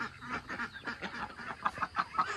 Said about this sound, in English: We got 9 ducks in here.